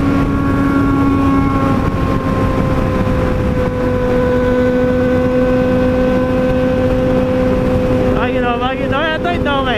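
A Yamaha XT660 motorcycle accelerates on the road behind sport bikes, its engine note rising in pitch through the gears with strong wind rush. Near the end a voice can be heard over the engine.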